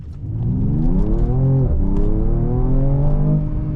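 A 2021 Mercedes-Benz E53 AMG accelerating hard, heard from inside as a loud rising engine note that climbs through a gear change and keeps pulling steadily.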